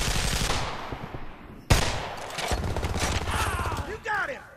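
Rapid automatic gunfire bursts and sharp shots from a Homefront team deathmatch game, with a loud bang midway and mechanical weapon sounds, close and dense.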